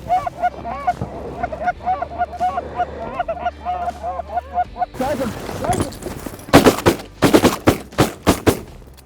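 Canada geese honking in flight during an Alberta waterfowl hunt, a flock calling repeatedly up close, followed by a burst of sharp, loud shotgun blasts in quick succession.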